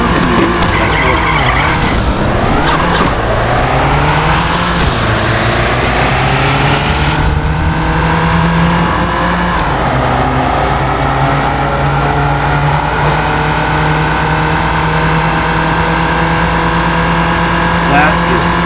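Cars in the racing game Nitro Nation: a loud, continuous engine note rising and shifting in pitch through gear changes, with tire skidding early on and a voice talking underneath.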